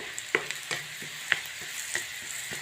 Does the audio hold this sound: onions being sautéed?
yes